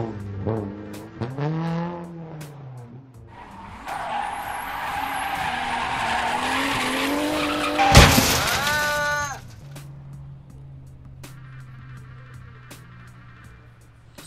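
A car in the game Chicken Gun revs hard and skids with long screeching tire squeals that rise and fall, peaking in a loud harsh burst before fading to a lower steady engine drone.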